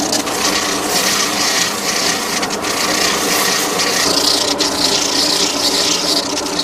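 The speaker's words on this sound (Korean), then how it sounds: "샌딩하는 거예요" A worker sands a round wooden bathtub made of glued timber in a factory, producing a steady, loud abrasive rasp that continues unbroken throughout without any speech.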